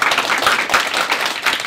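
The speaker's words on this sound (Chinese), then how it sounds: "我们给他一个热烈掌声" A hall audience gives brief, steady applause for an outgoing party director at a Democratic Progressive Party personnel announcement, a dense patter of clapping filling the short moment.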